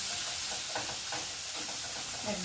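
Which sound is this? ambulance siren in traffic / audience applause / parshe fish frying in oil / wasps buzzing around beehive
parshe fish frying in oil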